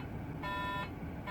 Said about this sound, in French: Quand je mets le clignotant, vous entendez le bip.